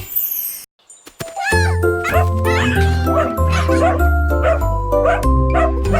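A puppy barks and yips repeatedly in high, bright bursts, close and loud, after a brief quiet gap, with a faint jingle.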